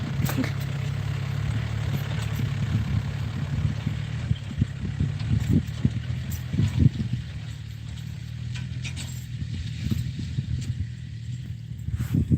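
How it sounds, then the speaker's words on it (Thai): A tractor engine drones steadily while ploughing a field, a low, continuous rumbling hum with slight fluctuations, moderately close and unbroken. "นู่นอยู่บนรถไถนะครับ นั่งไถอยู่"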